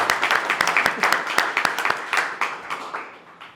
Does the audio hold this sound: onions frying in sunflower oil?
no